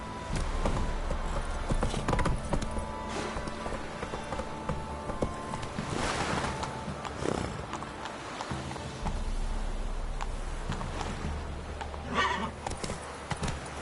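Hooves clip-clop steadily on a horse ridden at speed in The Witcher 3: Wild Hunt, with a rhythmic galloping beat throughout and a neigh partway through over a background game ambience.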